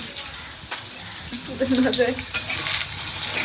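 Bitter gourd and potato curry fries and gets stirred in a pan, a close, continuous sizzle with brief scraping stirs and a faint voice underneath.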